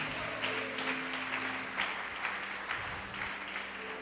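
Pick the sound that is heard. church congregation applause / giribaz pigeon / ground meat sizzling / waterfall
church congregation applause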